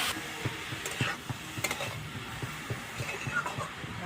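Grated carrots frying for a date-palm jaggery halwa are stirred in the pan, a soft continuous sizzle broken by repeated scraping strokes of the spoon, fairly quiet and without talk.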